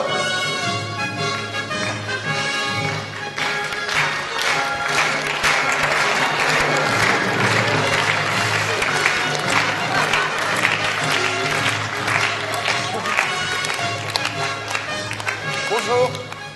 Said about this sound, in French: vous demande d'applaudir notre souverain suprême.